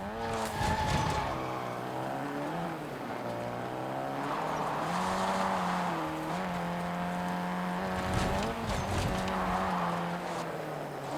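A game vehicle driven in Warzone: a steady engine drone with shifting pitch and a few revving swells, heard close and continuous for several seconds with no voices.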